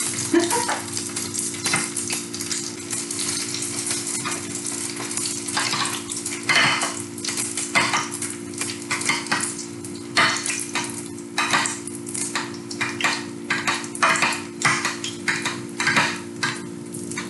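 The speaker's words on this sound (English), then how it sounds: "And I put it in my frying pan." Meatballs sizzle and crackle steadily in a hot frying pan, with occasional scrapes and clinks of a utensil stirring, close and fairly loud over a low hum.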